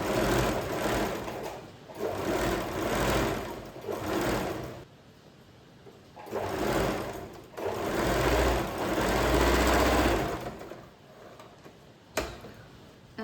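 Sewing machine stitching a baby dress, running in bursts of fast rhythmic whirring and ticking separated by short pauses, close and clear.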